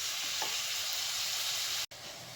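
Green chilies, chopped ginger and curry leaves sauté in hot ghee with a steady, loud, close sizzle that runs unbroken, then cuts out for a moment near the end before picking up again.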